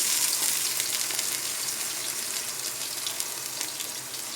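Paste of four medium onions fries in hot oil in a pan for a bommidayila pulusu fish curry, a loud continuous hissing sizzle that stays steady and slowly fades a little.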